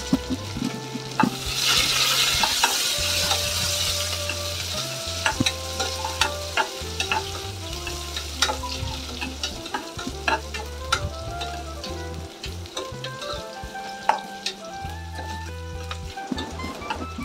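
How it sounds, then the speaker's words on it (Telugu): Onions and green chillies fry in a pan for a spinach mutton curry, giving a steady, close sizzle with repeated stirring and scraping clatters throughout, no voices. "ఉల్లిపాయలు, పచ్చిమిర్చి వేసుకొని లైట్ గోల్డెన్ బ్రౌన్ వచ్చే వరకు ఫ్రై చేసుకోవాలి"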